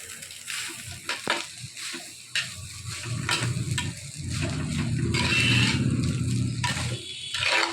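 Rice with chilli, salt and masala stir-fried on high heat for egg fried rice, sizzling loudly and steadily while a spatula scrapes and tosses it in repeated close strokes.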